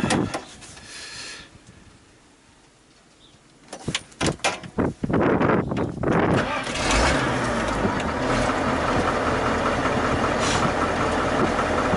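A heavy diesel engine cranks a few times with sputtering bursts, then catches and settles into a loud, steady rumbling idle close by.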